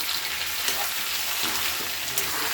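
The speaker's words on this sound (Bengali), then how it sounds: "এবার আমি নাড়িয়ে দিচ্ছি একটু ভালো করে" Spice paste for an egg and potato curry sizzles steadily in a pan while being stirred, with a close, continuous frying crackle and faint scraping of the spoon.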